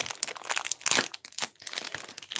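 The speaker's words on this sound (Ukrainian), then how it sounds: "Далі у нас іде ось такий пакетик. Відкриваємо." Close crinkling and crackling of a plastic packet being torn open, in irregular bursts.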